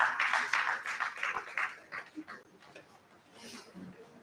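An audience at a research review and planning meeting applauds a session chairman, a dense burst of clapping that thins out and fades after about two seconds, with some murmuring voices underneath.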